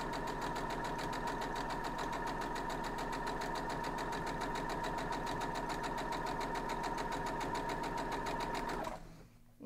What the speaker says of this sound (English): You're just sewing straight down.